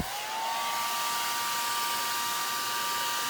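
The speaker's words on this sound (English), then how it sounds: "the best thing you can do is use a hairdryer." A hairdryer switches on and runs steadily at close range, blowing to heat and soften plasticine clay, its rushing airflow carrying a faint whining tone that settles after the first half second.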